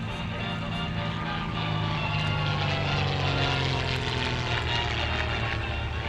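A vintage Caudron Rafale propeller airplane drones steadily overhead, a sustained buzzing engine hum that stays fairly constant and moderately loud throughout.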